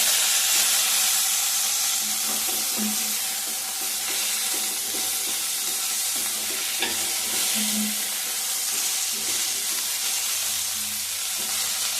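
A handful each of coriander and mint leaves fry in hot oil for a green chicken biryani, giving a steady, close hiss and sizzle with occasional stirring scrapes and a few soft knocks.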